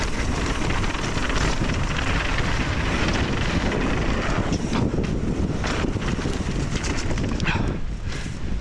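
Steady, loud wind roar buffets the microphone throughout while a rider descends a mountain bike trail at Highland bike park, with broadband rushing noise and a few brief gusts toward the end.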